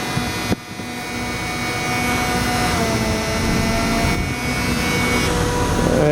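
Exhaust fans in a diesel 2000 Fleetwood Discovery 36T Class A motorhome run loudly, a steady roaring whoosh with a whining tonal edge that swells slightly and stays constant, with a brief thump near the start.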